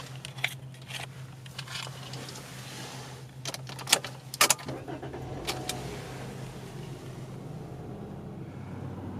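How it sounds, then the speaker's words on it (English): A 2020 Toyota Corolla LE is started from inside the cabin: a few clicks and key handling, then the engine catches quietly and a low, faint hum continues. "let me switch hands so we can start up the vehicle"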